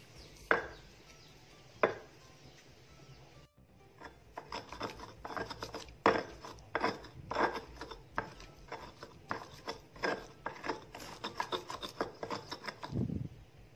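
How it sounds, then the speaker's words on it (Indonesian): Ginger and palm sugar pounded and ground with other spices for Semarang-style kikil gongso, making a steady run of close, rhythmic rasping and scraping strokes with a few sharper knocks. "Nah, bumbu-bumbu ini kita haluskan."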